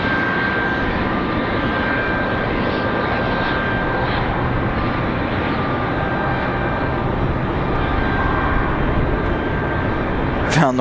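Lufthansa Boeing 787 jet aircraft at Raleigh-Durham International Airport, a steady loud engine roar that stays constant throughout with no letup, heard close by the airfield.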